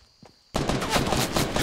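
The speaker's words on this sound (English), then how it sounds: "Who the hell just shot me?" Dense burst of rapid gunfire in Fortnite Battle Royale erupts after a quiet moment, continuing loudly with repeated sharp cracks for over a second.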